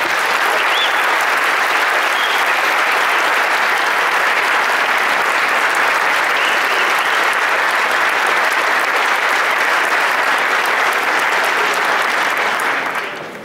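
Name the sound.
audience applause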